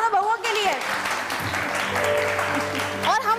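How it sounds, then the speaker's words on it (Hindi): An audience claps for two daughters-in-law in a TV show cooking contest, a dense burst of applause lasting a few seconds, with a voice speaking just before and just after. "बहुत सारी तालियां दोनों बहुओं के लिए।"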